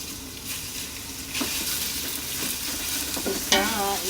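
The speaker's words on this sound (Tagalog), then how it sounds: "Haluin ulit." Sautéed garlic and onion are stirred in a pan for pancit, a continuous close sizzle with soft scraping strokes of a utensil and a sharper clank near the end, no speech.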